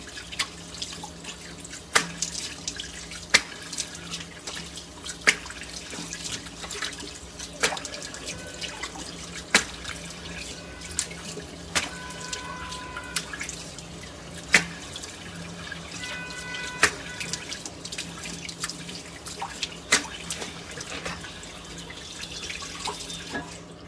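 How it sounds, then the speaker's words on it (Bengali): Water splashes and drips at a sink during face washing, with irregular close splashes and trickling over a steady running-water background for the whole stretch, without talking. "এখন মুখ ধুয়ে ফেলছি।"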